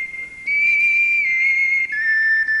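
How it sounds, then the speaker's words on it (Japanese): An ocarina plays a few sustained, pure notes, clear and fairly loud, stepping between pitches with a brief break near the end. "素朴で温かく、聴く人の心の奥にまで染み込んでくるようなオカリナの音色。"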